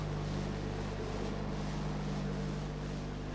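A 1970s Chrysler UK car engine with Weber twin carburettors idles at around 1000 RPM during carburettor adjustment, a steady low droning hum with a constant tonal rumble, unchanging and fairly close.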